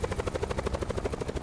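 A helicopter in Call of Duty Blackout sounds loud and close, its rotor chopping in a fast steady rhythm with a low engine drone beneath.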